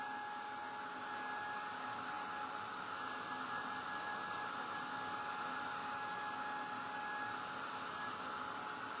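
A hair dryer blows continuously to dry fresh paint on a painted hat, a steady loud whirring hum that holds the same pitch throughout.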